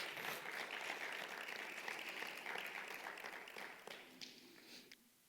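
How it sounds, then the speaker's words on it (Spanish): A church congregation applauds during a sermon, a dense, fairly faint wash of clapping that holds steady for about four seconds and then thins out with a few last claps. "Dale un aplauso al Rey."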